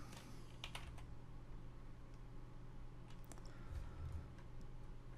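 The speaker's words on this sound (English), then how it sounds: "let's type it in the right place" Computer keyboard typing, faint and sparse, with scattered light key taps over a steady low hum and no talking.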